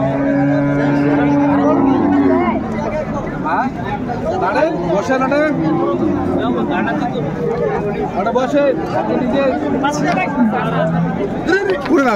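Cows and calves at a busy rural cattle market, with repeated loud moos over constant crowd chatter and people talking nearby throughout.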